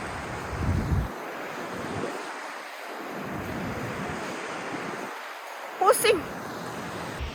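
Surf rolls in on a beach near Banyuwangi, Indonesia, with steady wave washes and wind buffeting the microphone, with a brief voice breaking in near the end.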